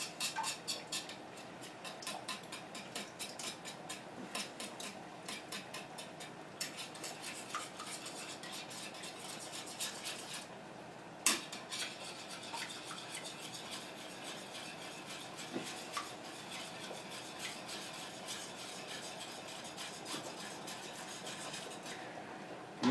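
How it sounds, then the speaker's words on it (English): Eggs whisked briskly in a bowl for spaghetti carbonara, with a steady run of rapid, close metallic clicks and scrapes of whisk against the bowl that continue for the whole stretch, with no voices. "Whisk up our eggs."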